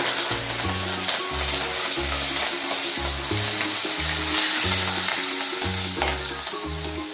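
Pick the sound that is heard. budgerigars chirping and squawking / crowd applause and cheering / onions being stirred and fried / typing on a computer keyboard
onions being stirred and fried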